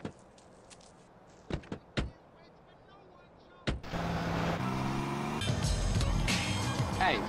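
In GTA San Andreas, a few door thumps and footsteps are followed by a car engine starting and revving loudly as it drives off, the roar rising and shifting in pitch through the second half.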